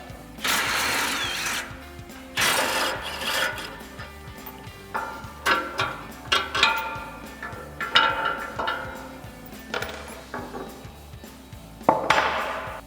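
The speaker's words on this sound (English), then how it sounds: "So we'll grab our 18mm socket and remove all these and get our winch plate out of the way." An 18mm socket on a ratchet comes in repeated short, close bursts of clicking as it backs out the winch plate bolts on a Barricade HD full-width front bumper on a 2021-2026 Ford Bronco, with small knocks and pauses between runs.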